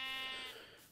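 A sheep in the Feed The Beast modded Minecraft game gives one short, buzzy, harmonic bleat at the start, tapering off over about a second, with no other sounds around it.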